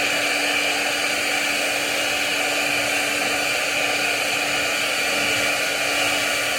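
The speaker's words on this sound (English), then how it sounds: "I also like to warm up my flange too with the hairdryer" A hair dryer blows steadily and loudly throughout, a constant whooshing roar with a faint high whine, no voices.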